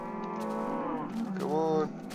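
A cow moos once in a video game with a cow breeding facility, a single long, low, drawn-out call with a rising bend near the end, clear and fairly close.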